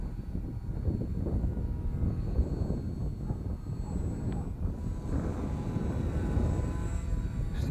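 Lightweight homemade foam RC plane flying overhead in gusty wind, a faint buzzing electric motor drone over constant wind rumble, rising slightly as it passes.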